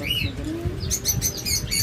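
A pair of cockatiels giving short, bright chirps and tweets at close range, a few quick calls in succession over faint background noise.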